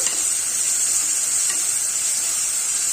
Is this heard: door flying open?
no